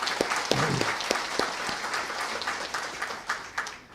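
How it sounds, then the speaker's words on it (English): An audience at a public event with the Illinois governor applauds, a dense, steady wash of many hands clapping that slowly fades toward the end. "let's give them another round of applause"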